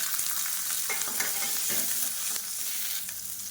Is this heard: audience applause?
no